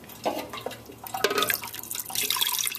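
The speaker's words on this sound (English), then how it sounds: "I'm going to put a little bit more water because I feel like it's not coming up to the heel of my hand." Water pours into a pot of whole-grain rice being cooked, a close, steady splashing trickle that swells slightly toward the end with no talking.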